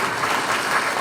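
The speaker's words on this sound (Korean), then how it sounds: "박수 주시겠죠?" Dense audience applause at a public speech in Korea, a steady wash of many hands clapping together, loud and close with no voices over it.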